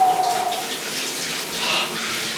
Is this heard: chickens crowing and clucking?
no